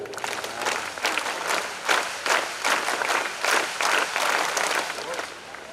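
Scouts and Guides break into sustained applause at the release of a special commemorative poster cover during the International Cultural Jamboree 2022, a dense crowd clapping steadily in loose waves for several seconds with some voices mixed in.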